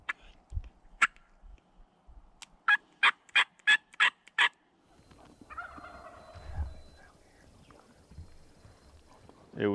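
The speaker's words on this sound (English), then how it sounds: "thought I heard a gobble" Wild turkey gobbling outdoors during spring hunting season, one gobble followed by a rapid run of five or six sharp, loud calls, then quieter rustling and movement nearby.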